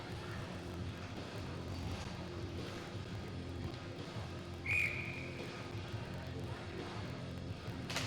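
A referee's whistle calls offside during a girls' junior ice hockey game between the Mississauga Jr Hurricanes and Burlington Jr Barracudas, a single short, sharp blast rising midway through steady arena crowd and rink noise.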